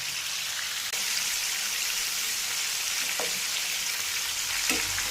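Fish pieces frying in a pan for Kerala-style fish molee, a dense continuous hiss and crackle with a few soft clicks of a utensil, no talking.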